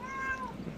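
A single short cat meow with a falling pitch, heard close and clear against a quiet room background.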